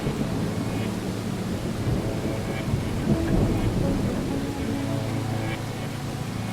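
Steady rainfall with a low, rolling thunder rumble underneath, a dense and continuous wash of sound that swells slightly midway, heard without talk.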